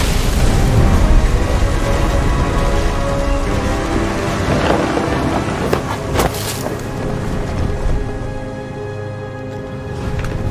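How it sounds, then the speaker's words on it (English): Thunder and heavy rain in the video game What Remains of Edith Finch, a loud continuous downpour with deep rolling rumbles and sharp cracks, steady throughout without any speech. "The thunder sounded much too close and full of angry power."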